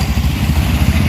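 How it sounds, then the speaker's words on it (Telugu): An auto rickshaw engine chugging steadily and loudly from inside the cabin during a ride, a short rhythmic low rumble with no talk. "ఆటోలో అయితే వెళ్తున్నామండి."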